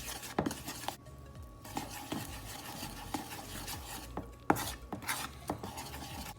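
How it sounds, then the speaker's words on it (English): Spoon scraping and knocking against a bowl while mixing chocolate crepe batter, with irregular soft clinks and stirring swishes at close range, alone without talk. "I'll be using a spoon to mix this"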